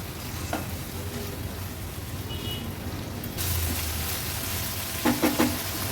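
Clam (shivlya) thecha, Agri-Koli style, fries in a pan while it is mixed, a soft steady sizzle that swells partway through, with a few spoon scrapes and clinks near the end.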